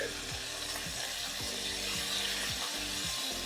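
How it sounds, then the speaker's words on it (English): Chicken stock bubbles and sizzles hard and continuously in a pan of teriyaki chicken, with a few scraping stirs across the bottom; no one speaks. "Now you notice it's boiling pretty vigorously."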